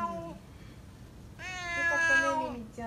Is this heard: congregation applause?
no